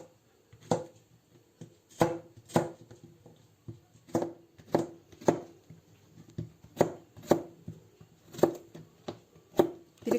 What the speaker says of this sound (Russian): Кабачки режем на небольшие кусочки.